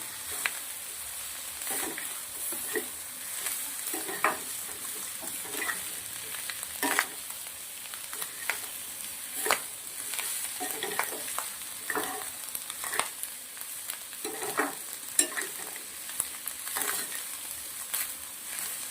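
Chole and rice are stirred together in a frying pan, giving a steady close sizzle under repeated scraping and stirring strokes from a spoon, with no talking.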